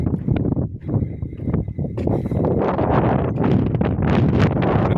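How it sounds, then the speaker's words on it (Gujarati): Strong cold wind sweeps across an open farm field, buffeting the microphone with loud, rumbling gusts that rise and fall without a break, and no one speaks. "અત્યારે પવન જોરદાર છે, એકદમ ઠંડુ વાતાવરણ છે વાડીનું"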